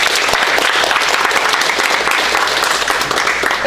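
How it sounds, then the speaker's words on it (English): A jiu-jitsu class applauds itself in the gym, a loud, close, unbroken burst of many hands clapping that stays full and even throughout. "give yourselves a round of applause"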